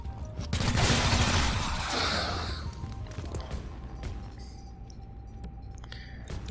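Burst of gunfire and impacts in the tactical video game XCOM: Chimera Squad, loud at first and then fading into a quieter rumbling game ambience, with no talk over it.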